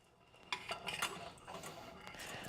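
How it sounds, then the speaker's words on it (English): A metal spoon scoops pure coconut oil and drops it into a popcorn kettle, giving a few close clinks and scrapes at a moderate level. "we want to take a big old honking spoonful of that pure coconut oil, and we're going to drop it right into that kettle"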